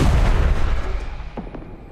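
Gunfire in the video game Duet Night Abyss lands as a loud, heavy blast that booms up front and then fades away in a rumbling tail, with a couple of faint clicks near the end.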